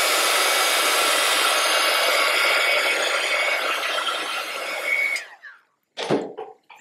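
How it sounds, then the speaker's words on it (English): A heat gun blows steadily and loudly, drying glue at close range with a continuous airy roar that cuts off near the end, followed by a brief handling clatter. "Let's give it one more shot with the heat gun."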